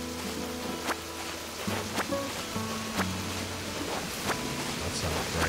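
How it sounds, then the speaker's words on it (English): A waterfall in Animal Crossing, heard as a steady soft rushing wash of water that continues throughout, with a gentle melodic game tune and a few faint chimes over it. "Love the waterfall sound."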